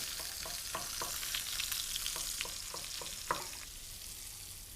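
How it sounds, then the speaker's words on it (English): Chopped fennel, carrot and onions sweat in a pan with a soft, faint sizzle and a run of light stirring taps, close but quiet, with no voices. "we put this in to sweat down"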